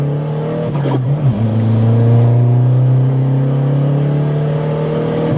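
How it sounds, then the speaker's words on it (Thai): A turbocharged car pulls hard in third gear toward 5000 rpm, a loud, close, steady engine drone with a low droning tone heard from inside the car. "ต้องลองเกียร์สามลากสักห้าพันดูพี่"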